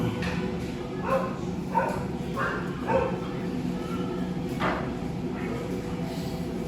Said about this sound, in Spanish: El perro.